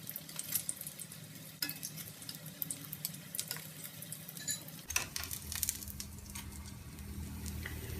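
Chicken seekh kabab rolls browning in a pan make a soft sizzle and crackle with scattered faint clicks and a low rumble that thickens partway through, steady and quiet with no speech.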